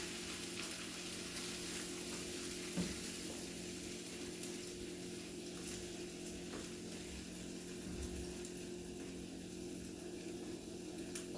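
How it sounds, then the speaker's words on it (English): Cabbage with oil and bacon bits simmers gently in a pot, giving a soft, even sizzle and bubbling hiss that holds steady throughout. Faint and continuous, with a low hum underneath and no talking. "what you do is you just let your cabbage just kind of simmer a little bit"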